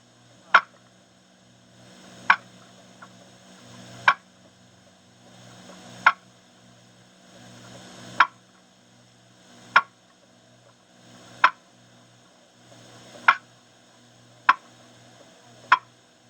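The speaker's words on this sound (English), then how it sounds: "Let's start with a cluck on a box call." Sharp, sparse turkey clucks from a box call, about ten evenly spaced single pops over a quiet background hum.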